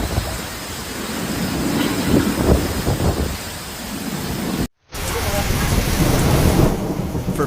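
Heavy rain pours down steadily in a Paris storm while thunder rumbles loudly through the downpour, with a brief break in the sound partway through.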